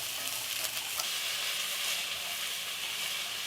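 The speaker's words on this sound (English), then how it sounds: "Put your bell pepper, onions in it. We're going to stir this off and on" Bell pepper and onions frying in a pot for tomato soup, giving a dense, even hiss of sizzling oil up close with faint stirring, no voices.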